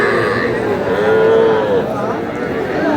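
Cattle and calves at a village livestock market lowing repeatedly, one long clear moo standing out over a busy background of other animals and distant market noise.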